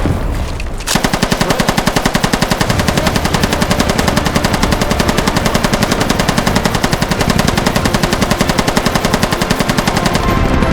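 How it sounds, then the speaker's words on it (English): Big machine gun in a war sim video game firing a long sustained burst of rapid, evenly spaced loud shots, running almost continuously after a short pause at the start. "The other, the big machine gun."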